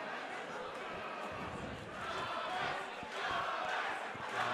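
A crowd at an MMA fight roars and shouts in a sustained wash of cheering, swelling louder toward the end, with a voice mixed in.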